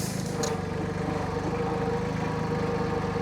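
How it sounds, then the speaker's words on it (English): A tractor engine reverses while a barn is being built, giving a loud, steady mid-pitched idle with an even chugging pulse throughout. "Now we'll back the tractor up and get one panel."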